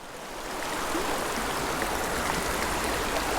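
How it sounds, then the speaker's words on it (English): Rushing water from a mountain stream with many small waterfalls pours steadily, a dense broadband wash that swells in over the first second and then holds constant, with no voices. "There's a lot of current, a lot of little waterfalls and stuff."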